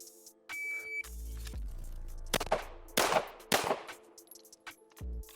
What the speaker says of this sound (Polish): Masz 3 sekundy na oddanie trzech strzałów zdobycia.